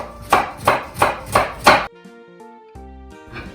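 Onion sliced into julienne strips with a knife on a board: five evenly spaced, crisp chopping strokes, close and loud, then a stretch of quiet tonal background sound.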